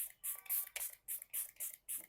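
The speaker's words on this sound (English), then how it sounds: "Now we are going to set this base with the Daily Forever 52 Long Wear Fixing Spray" Daily Forever 52 Long Wear Fixing Spray misted over a makeup base, about seven quick, hissing spritzes in a brisk even rhythm, close and fairly soft.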